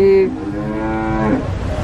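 A white female Javanese cow at the Nglangon livestock market in Sragen, Central Java, lets out a long, drawn-out moo, loud and near, holding a steady low tone before trailing off into background noise.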